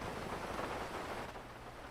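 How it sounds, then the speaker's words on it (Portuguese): Heavy rain with a low thunder rumble in the video game GTA V on a FiveM roleplay server, a steady, dense hiss that fills the whole moment and eases slightly toward the end. "A chuva tá complicada."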